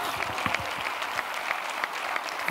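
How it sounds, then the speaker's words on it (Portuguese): A comedy show audience in Braga applauds a comedian: steady, fairly distant clapping from a crowd fills the whole stretch, even and continuous without pauses. "Uma salva de palmas para esta besta."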